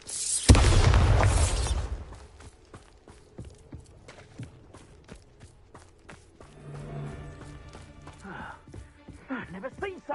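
A Bombarda explosion spell in the Hogwarts Legacy video game lands as one heavy, loud boom that rumbles for about a second and dies away. Quieter thuds and game sounds follow, with voices near the end.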